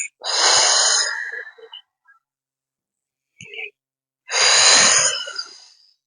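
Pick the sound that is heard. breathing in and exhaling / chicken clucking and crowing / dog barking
breathing in and exhaling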